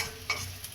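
Cashew nuts dropped into hot oil with browned onions in a pan, a brief faint sizzle and a couple of soft stirring clatters, quiet and close.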